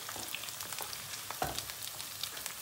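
Meat sizzling in its own rendered fat in a pan, a soft, steady crackle with scattered pops and spits, fairly quiet and close, with no talk.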